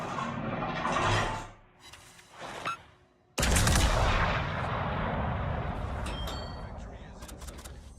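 Ship guns fire in a World of Warships naval battle, with loud booming salvos, the biggest blast landing at mid-clip and rumbling on, while a voice talks over the action.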